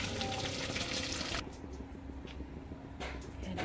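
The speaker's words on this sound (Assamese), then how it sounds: "তথাপিও আৰু এটা মই পিঁয়াজ দিওঁ তেলত।" Onion sizzling in hot oil in a home kitchen gives a steady, close hiss that drops off partway through and then returns.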